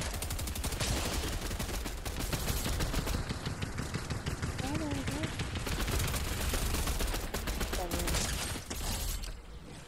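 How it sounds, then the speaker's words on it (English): Rapid bursts of video game gunfire crackle through nearly ten seconds of dense action, close and loud, with players talking over it. "I thought someone was shooting at the wall."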